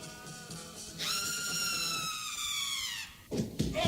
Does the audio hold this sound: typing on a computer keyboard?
no